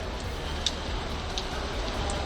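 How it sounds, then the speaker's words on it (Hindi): Heavy rain falls steadily in Dharali, a mountain village hit by a cloudburst, as an even, continuous broadband hiss with a few faint drip ticks and no voices. "2 दिन से लगातार बारिश हो रही है।"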